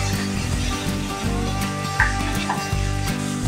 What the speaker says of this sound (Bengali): লো ফ্লেমে মশলাটা একটু একটু করে জল দিয়ে ভালো করে কষিয়ে নিতে হবে।